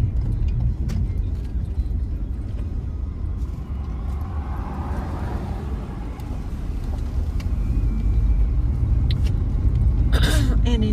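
A car rolling slowly along a rural road in Rusk County, Texas, a steady low engine and tyre rumble heard from inside, with small rattles and a brief clatter near the end.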